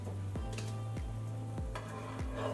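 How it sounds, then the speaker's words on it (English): Boiling peanut sauce is stirred steadily while arrowroot thickener goes in, with four evenly spaced soft scraping strokes of the utensil against the pot over a low bubbling hum, close and quiet. "I'm going to slowly add the thickener while stirring constantly"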